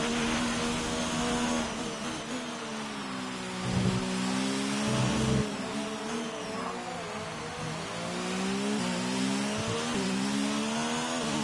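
Race car engines in a PlayStation 4 racing game rev and accelerate back up to speed after a caution, a loud continuous whine with rising and shifting pitch and brief gear-change dips, with no talking.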